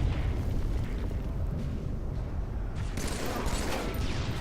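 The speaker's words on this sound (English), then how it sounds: "Grenade blew up in his face." A grenade goes off in a first-person shooter game, giving a loud, sustained rumbling blast with dense noise that fills the whole stretch, with a fresh burst near the end.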